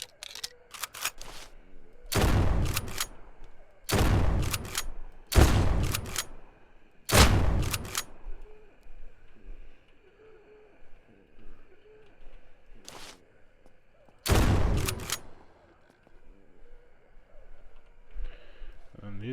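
Zombie-shooting gunfire in the survival game SurrounDead: loud, sharp shots fired in separate bursts at irregular intervals, with a talking voice between them and quiet ambience in the gaps.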